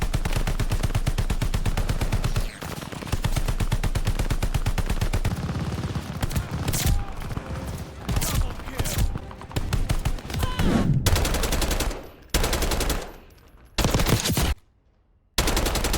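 Rapid bursts of automatic AK-74 gunfire from the video game Black Ops 6, dense and loud with repeated volleys broken by brief pauses, and no talk over it.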